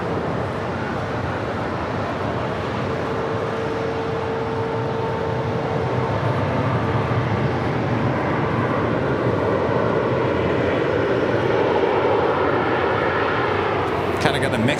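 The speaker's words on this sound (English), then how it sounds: "Qatar Airways Flight 741 coming in from Doha on this A350-1000, touching down here on the south side at 25 left" An Airbus A350-1000 of Qatar Airways touches down on runway 25 left at LAX, its loud sustained engine roar and rushing air filling the scene, with a faint whine and a sharp clatter near the close.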